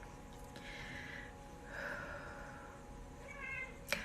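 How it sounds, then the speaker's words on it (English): A cat meows several times in a quiet indoor room, soft drawn-out calls that sound fairly close against a low background hush, with a brief sharper sound near the end. "There's a cat in here."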